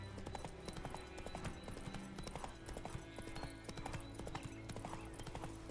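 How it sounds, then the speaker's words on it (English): A horse in a video game gallops in a fast, continuous stream of hoofbeats, heard faint and steady over layered game ambience. "Run, Roach"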